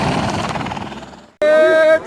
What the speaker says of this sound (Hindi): ये हेलीकॉप्टर है, ये देखिए हेलीकॉप्टर येलो और वाइट में फिर पहुँच गया